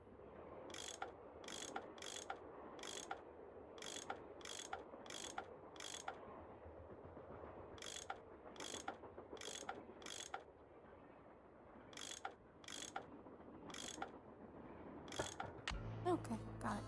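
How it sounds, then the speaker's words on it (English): Bolts being unscrewed in the Nancy Drew game Last Train to Blue Moon Canyon, a series of crisp, evenly spaced ratcheting clicks in groups, ending with a brief clatter. "obviously I do not know how to unscrew bolts"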